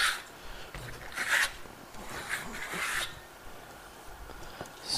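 A steel trowel spreads Grasello lime plaster across a wall in a Venetian-plaster finish, giving close, dry scraping and rasping strokes that come in uneven bursts with short pauses between them.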